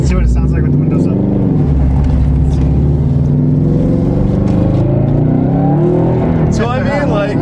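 A Subaru WRX/STI fitted with an AWE Touring exhaust, heard from inside the cabin with the windows up: a steady, deep droning rumble that rises with engine revs, while people talk over it.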